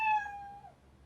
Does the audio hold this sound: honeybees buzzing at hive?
no